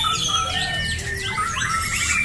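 White-rumped shama (murai batu) singing in a bird song competition, a loud, continuous stream of rich whistles, rapid chirps and sweeping trills close up, with other birds calling around it and no talk.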